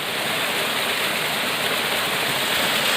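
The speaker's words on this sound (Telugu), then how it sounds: "ఇది జలపాతం బాగా ఉన్నప్పుడు హైట్ కనిపిస్తుంది చూసారా." Waterfall on a rain-soaked hillside, its steady, loud rushing roar filling the whole stretch without a break, with no voices over it.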